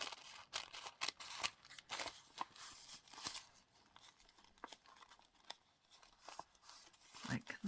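Scissors make quick rough cuts through paper at a craft table, snipping in short irregular bursts with light crinkling in between, close and fairly quiet.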